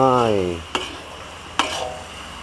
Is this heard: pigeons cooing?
no